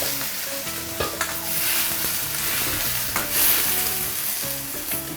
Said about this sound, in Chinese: 烧开以后呢，下入这个鱼